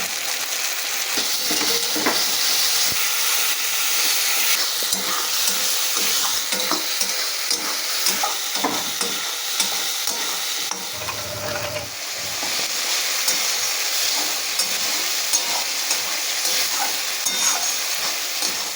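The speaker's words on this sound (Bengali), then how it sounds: "মশলাটা আমি খুব ভালোভাবে কষিয়ে নিয়েছি" A spice paste fries with browned onions, salt and turmeric for a katla fish dopiaza, a loud, continuous sizzle and hiss with frequent stirring scrapes, close and steady with a brief lull midway.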